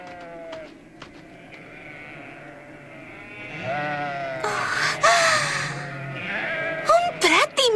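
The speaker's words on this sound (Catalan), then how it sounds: "Un prat immens! És al·lucinant i ple d'ovelles." Sheep bleating across a vast, cold meadow, several wavering calls rising one after another, some near and loud, under animated cartoon voices talking.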